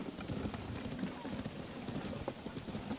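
Horses' hooves clip-clop steadily nearby at a rhythmic, brisk pace, mixed with the shuffle of the animals as people talk excitedly over them.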